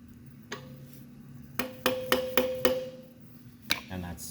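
A tapered punch is tapped against the differential carrier of a 12-bolt Camaro rear end: a handful of sharp, close metallic taps with a brief ringing tone, bunched together, under a quiet shop background.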